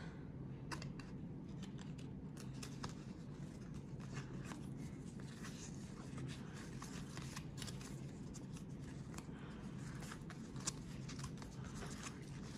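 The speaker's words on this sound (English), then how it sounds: "I'm gonna put these together off camera now because I'm sure you really want to see me straightening up cards." A stack of 1991 Topps Archives baseball cards being straightened and squared up by hand, soft quiet shuffling and riffling with light taps throughout, close and faint.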